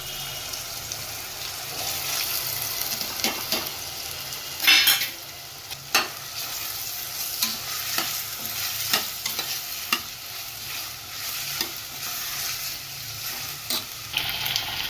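Chopped kantola (spiny gourd) tossed into simmering gravy in a pan, giving a steady close sizzle with repeated scraping stir strokes and occasional sharper clatters.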